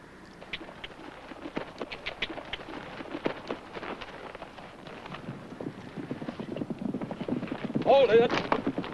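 Horse hooves clip-clop steadily at a moderate distance in an old Western TV drama scene, a soft continuous patter under low ambient noise.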